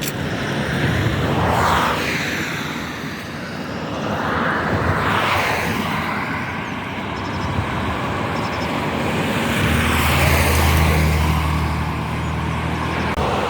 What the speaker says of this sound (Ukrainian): Тому що машини це все перебивають.